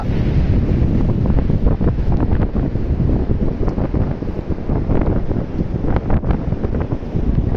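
Steady wind and rolling surf on the sea beach at Digha, West Bengal, a loud continuous roar buffeting the microphone with no voices.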